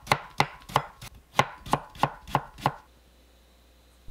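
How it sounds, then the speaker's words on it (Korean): Knife thinly slicing half a carrot on a cutting board: eight crisp, evenly spaced chops close up, then quiet. "당근 반 개도 얇게 썰어주세요."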